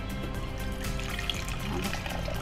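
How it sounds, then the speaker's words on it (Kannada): Water poured into raw mango juice, a steady soft splashing and trickling stream up close, heard beneath people talking throughout. "ಇದರಲ್ಲಿ ಸ್ವಲ್ಪ ಇನ್ನು ನೀರು ಎಷ್ಟು ಬೇಕಾದ್ರೆ ಆ್ಯಡ್ ಮಾಡ್ಕೊಳ್ಬೋದು"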